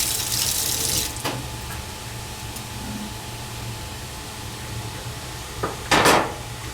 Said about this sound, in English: We then rinse the clean instruments in warm water.